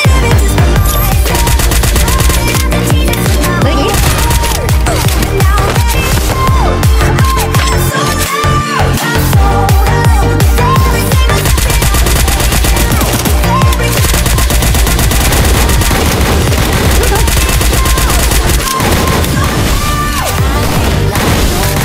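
Dense, continuous video-game gunfire from a desert island battle, rapid automatic bursts layered with booms and crashes, loud and sustained throughout, with chaotic combat noise filling the whole stretch.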